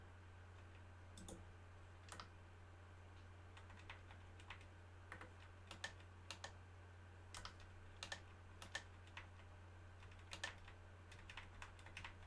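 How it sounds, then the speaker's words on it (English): Someone types on a computer keyboard, a steady patter of faint, irregular key clicks over a constant low electrical hum, with no speech. "Doing some typing stuff."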